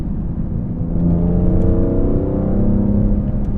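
A BMW E46 M3 with a carbon fiber intake on a downshift, a loud close engine rumble that rises and swells in pitch through the gear change, heard alone.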